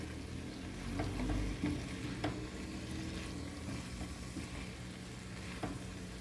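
Pumpkin stirred with seasoning in a hot pan: a soft, continuous frying sizzle broken by scraping and knocking strokes of a spoon against the pan, fairly quiet and close, with no voices.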